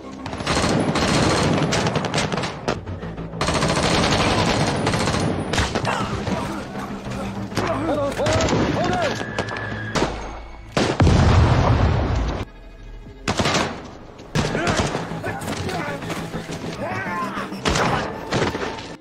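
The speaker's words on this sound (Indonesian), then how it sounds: "David terlibat baku tembak dengan kelompok terorida Filipina itu." A film gunfight with Filipino terrorists brings loud bursts of gunfire and heavy booms in rapid, uneven clusters. Short gaps break the bursts, and voices come through at times.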